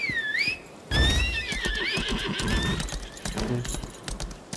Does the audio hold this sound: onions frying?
no